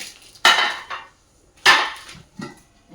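A new, large but lightweight kadhai is handled up close, giving two sharp clattering knocks with softer scrapes and a faint knock after, no talk.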